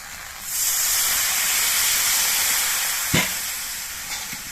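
A little water poured into a pan of frying spices, turmeric, cumin and slit green chillies among vegetables, sets off a sudden loud hiss and steaming sizzle that holds steady, with a brief clatter partway through.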